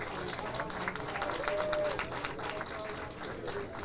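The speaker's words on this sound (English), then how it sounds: "let's give all eight of these lovely, lovely ladies a nice round of applause" A pageant audience claps and cheers for the contestants on stage, a steady dense wash of applause with crowd noise running the whole time.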